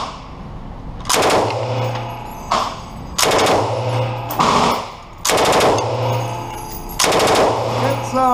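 A machine gun fired at a Las Vegas shooting range in several short, loud, close bursts spaced about a second or two apart, with brief pauses between them.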